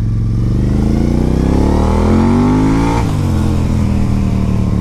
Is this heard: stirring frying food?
no